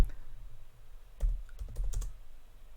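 Someone types a short search phrase on a computer keyboard, a quick close burst of crisp key clicks after a brief quiet moment, with no talk during the typing.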